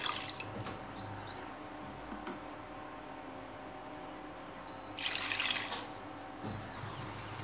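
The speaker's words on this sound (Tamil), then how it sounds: "இப்போ நம்ம கூட தண்ணி ஆட் பண்ணிக்கலாம்." Water poured into a pressure cooker holding rice for chicken biryani, a soft steady trickle heard close and faint, swelling into a brief louder splash near the end.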